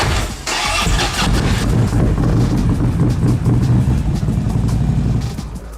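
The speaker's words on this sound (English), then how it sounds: "let the bike fully power down, and then you can go ahead and reconnect your interface and start the vehicle" A Harley-Davidson motorcycle engine with a Screamin' Eagle tune cranks and catches, then holds a loud, steady rumbling idle close by, with no talking.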